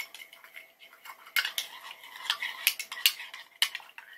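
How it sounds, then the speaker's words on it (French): A spoon stirs Canadian chocolate powder into a drink, making light, scattered clinks and scrapes against the cup that grow busier over a few seconds, close and fairly quiet. "Je vais en renverser tout doucement. Je vais touiller."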